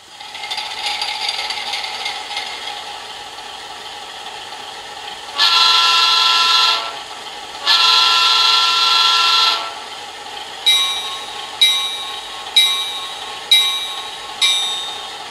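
An ESU Select Micro DCC sound decoder in an Atlas MP15DC HO scale diesel locomotive plays a slightly staticky engine hum through a small speaker, then two long horn blasts and a run of short, evenly spaced bell-like chimes.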